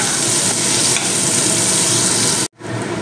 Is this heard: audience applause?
no